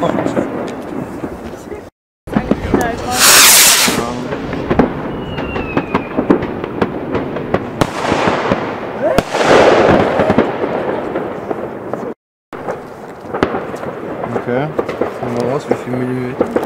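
New Year's Eve fireworks and firecrackers, including a violet silver cracker, go off outdoors in a dense barrage of loud bangs, crackles and whistling bursts, with people talking nearby between the blasts.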